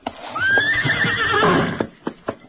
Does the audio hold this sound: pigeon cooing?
no